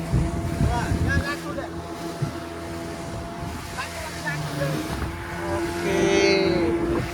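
A deep-sea fishing boat's engine drones steadily under wind buffeting in stormy weather, with occasional voices talking over it and a rising tone near the end.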